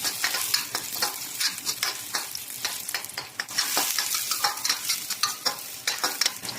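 Onion being stir-fried in a pan for a Filipino fish dish with Indian spicing, giving a steady crackling sizzle broken by frequent scraping strokes and stirring clatters, close and fairly loud, with no talk.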